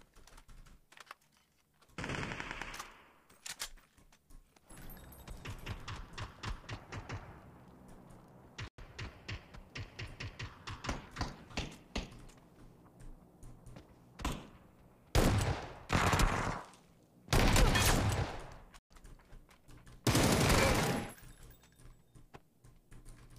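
Video game shooter gunfire in fast clattering bursts, some loud and close, mixed with rapid key-like clicking throughout, without talk.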